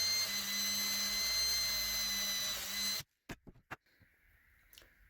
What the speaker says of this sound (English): I use this step bit for this process as well, and I'm going to go out to 3/8 of an inch.